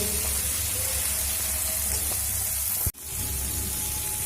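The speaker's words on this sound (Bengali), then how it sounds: "চিংড়ি মাছটা দেওয়ার পরে আরও তিন মিনিট মতো আমি ভেজে নিয়েছি" Prawns fry in a pan with a steady, close, hissing sizzle that holds continuously, broken by one abrupt momentary dropout before the sizzle resumes.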